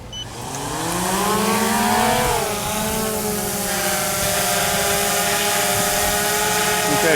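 An Autel X-Star Premium 4K drone performs an automatic takeoff outdoors in St Maarten, its rotors whining up in pitch and settling into a steady, buzzing hover close by, with some wind noise and no talk.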